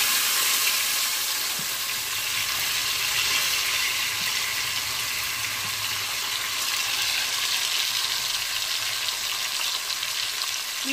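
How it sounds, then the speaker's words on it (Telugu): Chopped onion and green chili frying in a pan for a dried fish and cucumber curry, giving a steady, close, unbroken sizzle with faint stirring and no voices. "వీటిని వేయించుకుందాం కాస్త."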